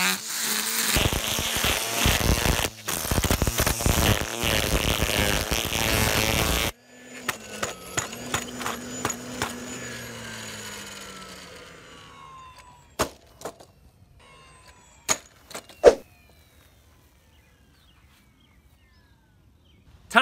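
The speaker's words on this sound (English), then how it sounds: "The next string trimmer up is the 60 volt Greenworks." A Greenworks 60-volt string trimmer runs at a loud, steady, high-pitched whine for about seven seconds, then cuts off and spins down, followed by scattered clicks and taps.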